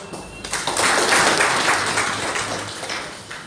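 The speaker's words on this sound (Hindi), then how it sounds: "उनको धन्यवाद के रूप में दमदार ताली के साथ में" Group of people at a shop gathering clap together in a burst that swells quickly, stays fairly steady and tapers off, with no talking over it.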